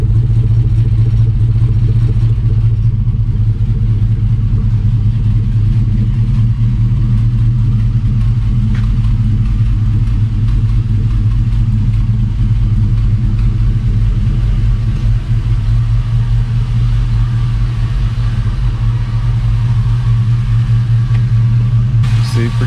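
Deep, steady exhaust rumble from an LS-swapped V8 in a bagged Chevy C10 pickup, a continuous low drone running loud and unbroken throughout, with mild throttle swells and no spoken words.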